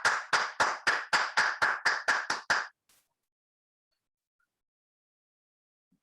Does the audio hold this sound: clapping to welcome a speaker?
yes